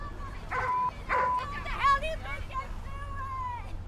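Dogs yip and bark at a dog park in an office complex. A few sharp barks come close together, followed by whining, whimpering yelps over a low steady rumble.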